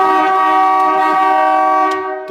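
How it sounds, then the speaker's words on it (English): A 1950 Ford Convertible's horn blares in one long, loud, steady tone with rich harmonics, held nearly unbroken for a couple of seconds before cutting off. "horn works a little too well."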